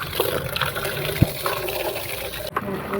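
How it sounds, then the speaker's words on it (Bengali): Water poured into a drum to give chickens a drink on a poultry farm: a trickling, splashing flow with a sharp knock partway through and some faint background sounds. "পাত্রগুলোকে ভালো করে ধুয়ে নিয়ে মুরগির জন্য ডামে পানি নিলাম"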